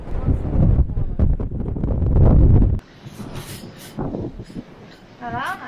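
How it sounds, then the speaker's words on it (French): Strong storm wind on a snowy mountain roars and buffets the microphone loudly for about three seconds, then cuts off abruptly, leaving quieter wind noise while people talk. "C'est la tempête ici."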